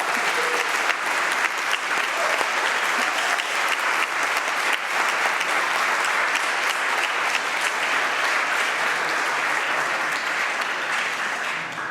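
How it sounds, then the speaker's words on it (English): Sustained applause from an interparliamentary plenary assembly audience in Copenhagen, a steady dense wash of clapping holding at an even level for the full twelve seconds with no voices on top. "let's give him a big clap"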